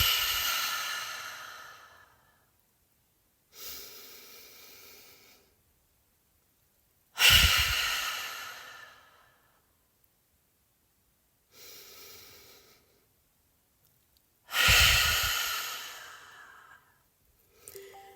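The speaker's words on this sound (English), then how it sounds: "we'll exhale through the mouth with a ha sound, emptying all the air we possibly can" Someone exhales forcefully through the mouth with a breathy "ha" during a guided self-love breathing practice, three long loud breaths spaced evenly, with softer breaths drawn in between, near and alone with no talk.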